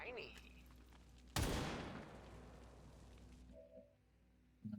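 A single loud burst of gunfire in the video game XCOM 2 Long War of the Chosen, an abrupt crack that decays slowly over a couple of seconds, followed by a faint electronic tone.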